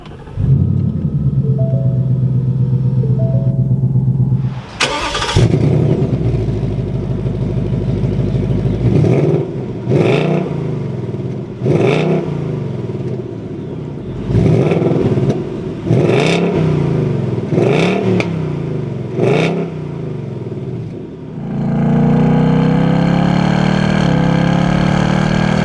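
A 2021 Ford Mustang GT Premium V8 cranks, fires up loudly and settles into a rumbling idle. It then blips through a series of sharp revs in quick bursts before returning to a steady, throaty idle, with no talking.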